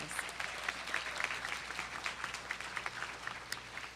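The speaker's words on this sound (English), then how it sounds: "Let's give them a warm round of applause." An audience at a spring commencement ceremony applauds graduates who are active military or veterans, with steady, dense clapping throughout at a moderate distance.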